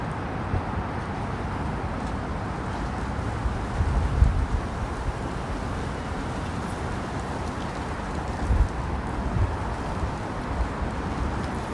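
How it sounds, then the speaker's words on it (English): Wind gusting along a Manhattan street in Tribeca in January, a steady broadband roar close to the microphone with faint traffic underneath and a few brief bumps, no voices. "You can hear just how windy it is too."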